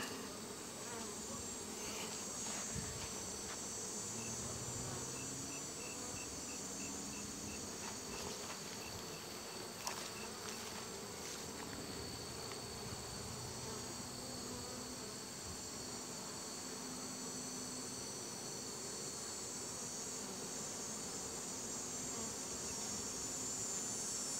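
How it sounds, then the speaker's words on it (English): Dense, continuous buzzing of many bees, a soft steady drone throughout with faint occasional clicks, no voices. "These are Mary Ellen bees"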